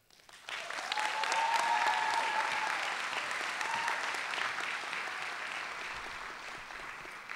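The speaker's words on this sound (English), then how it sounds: "Can we have another round of applause, please, for our student speakers?" Sustained audience applause for student speakers at a high school graduation ceremony, a dense steady wash of clapping that swells quickly and holds fairly loud before tapering slightly, with a faint voice underneath.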